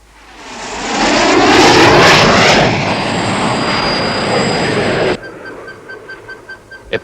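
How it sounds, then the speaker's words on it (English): A propeller aircraft flies overhead near a mountain cable car, rising into a loud, sustained engine roar that holds for several seconds and then cuts off sharply to quiet. "A plane of some kind."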